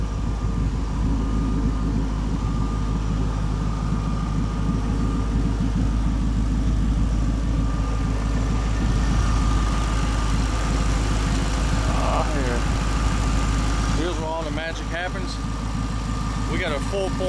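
A 1933 Ford roadster hot rod with a brand-new supercharged 4.6 liter V8 Ford crate engine idles with a steady, deep rumble that runs loud and unbroken throughout, and a few brief squeaky sounds appear near the end.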